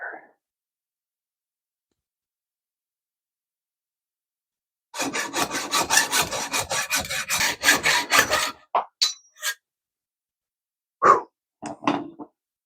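A handsaw cuts a bike part clamped in a vise, a quick run of close, rhythmic rasping strokes after long silence, followed by a few scattered scrapes and knocks.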